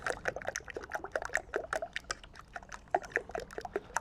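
Cream being churned by hand into homemade butter, with quick irregular wet splashes and slaps close by, soft and continuous with no talking.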